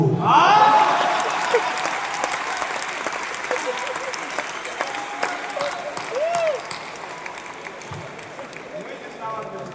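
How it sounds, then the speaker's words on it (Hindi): A large stage-event audience claps loudly from front to back, a dense roar that swells at first and gradually tapers, with voices briefly audible over it near the start. "आगे से लेकर पीछे तक ऐसी तालियां देना कि लगना चाहिए आप सुनने के लिए तैयार हैं।"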